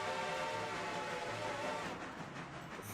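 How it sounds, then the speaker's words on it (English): A locomotive fog whistle in the game Railroader sounds a long, steady tonal blast over rumbling train noise, loud and close, then fades. "Let me give it the fog whistle."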